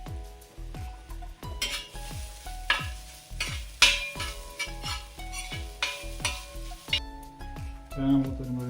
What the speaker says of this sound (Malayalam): നമ്മൾ വെളിച്ചെണ്ണ ഒഴിച്ച് തേങ്ങ ആദ്യം വറുത്തെടുക്കാം